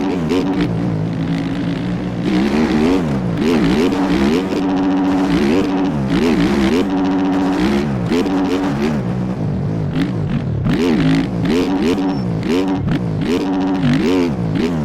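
Dirt bike engine in the MX Bikes motocross game, revving hard with rapid rising and falling pitch sweeps as the throttle is blipped and held, loud and continuous throughout with no talking.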